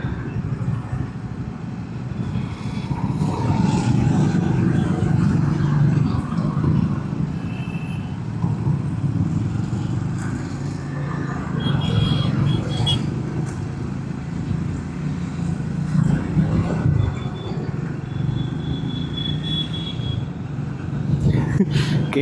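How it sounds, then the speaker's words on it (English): Dense street traffic in Jodhpur, a steady rumble of cars, motorbikes and engines with scattered horn toots close by, running continuously under occasional talk. "The traffic here is insane."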